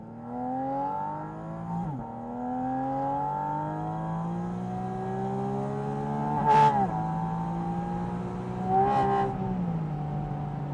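An open-top Porsche 718 Spyder RS revs its engine toward 9000 RPM, the pitch climbing in long smooth pulls with quick shifts between, loud and close with no talk.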